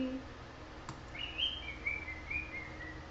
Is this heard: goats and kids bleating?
no